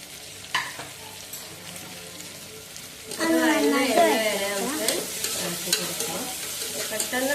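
Chopped onions hit hot oil with curry leaves in a pan for a chicken curry, first quiet scraping, then a sudden loud sizzle that keeps crackling while a spoon stirs and scrapes the pan.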